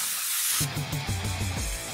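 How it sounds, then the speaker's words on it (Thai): A spray can of chain lubricant oil releases a loud hissing burst at the start, then gives way to a rhythmic low, tonal pattern of other sounds for the rest. "สเปรย์น้ำมันฉีดโซ่คุณภาพสูง"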